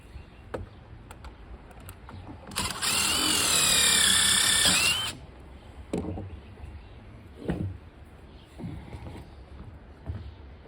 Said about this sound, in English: you're going to put the other 2 screws up through the bottom here